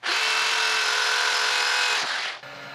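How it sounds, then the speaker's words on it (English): Power sander smoothing the wooden top of a cocktail smoker: a steady, loud, close electric whir holding for about two seconds, then winding down as the motor cuts off. "All I gotta do now is sand my top."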